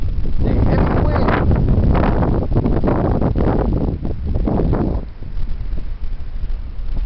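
Heavy wind roars and buffets continuously, loud and close, with gusty rumbling that eases slightly toward the end.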